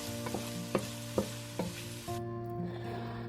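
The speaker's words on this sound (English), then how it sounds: "it's time to add our chopped onion. We'll saute it for roughly 4 minutes" Chopped onion sauteing in hot oil in a large pot over medium-high heat, a steady sizzle broken by a few soft stirring knocks, with a constant low hum beneath.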